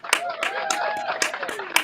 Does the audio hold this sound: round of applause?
yes